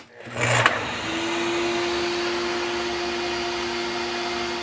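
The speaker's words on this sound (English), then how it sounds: "I've just got a rigid vacuum with a Festool hose, and it's on a relay so that once I fire up my saw, the vacuum will kick on" A Ridgid shop vacuum fitted with a Festool hose starts up with a short rising whoosh, then settles into a steady, loud, continuous motor whine and airflow roar that holds unchanged to the end, with no talking.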